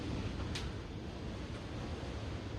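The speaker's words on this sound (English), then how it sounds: "It is windy and yucky outside." Wind blows steadily outside a workshop on a blustery day, a constant low roaring rush with no clear gusts and no voices.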